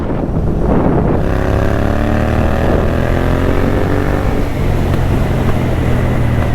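A motorcycle engine roars steadily under heavy, loud wind rush on a helmet microphone, ridden with the visor fully open, the engine pitch rising as it accelerates.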